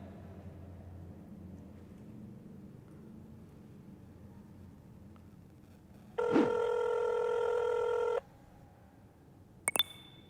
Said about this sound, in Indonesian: Oke, gue telepon temen gue dulu kali ya.